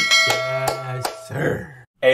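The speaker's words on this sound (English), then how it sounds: "click that notification bell" Several bright ding and clang tones ring out in quick succession as a notification bell sound effect, loud and close, with a short gap before a final ding.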